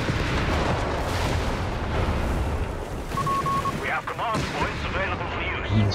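Heavy artillery fire destroys tanks in the World War II strategy game Company of Heroes 3, a continuous, loud roll of booms and explosions with a player's voice running underneath.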